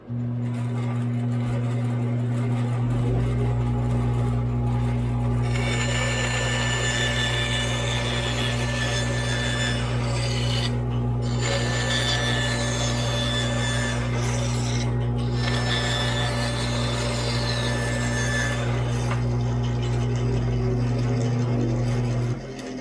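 A big dust collector blower roars continuously with a steady low hum, while a bandsaw runs alongside and cuts produce rasping, gritty noise in bursts. The sound is loud and close throughout, with no talking.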